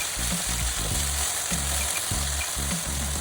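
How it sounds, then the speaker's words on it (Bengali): Small chuno fish frying in hot oil in a wok, a steady dense sizzle and crackle running through the whole stretch at moderate level, with faint low tonal sounds beneath. "মাছগুলো উল্টে পাল্টে হালকা করে ভেজে নেব"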